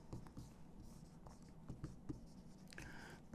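A marker or chalk moving across a board as a teacher writes out a maths definition, soft scratchy strokes in short bursts with small taps, close and quiet over faint room noise.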